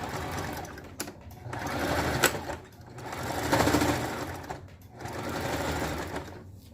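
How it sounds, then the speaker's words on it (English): A sewing machine runs a zigzag stitch along stretchy jersey fabric for a leotard, whirring in three steady bursts with short pauses between them, close and moderately loud. "just sew it down. Again with a zigzag stitch because a zigzag stitch ensures that everything still stretches."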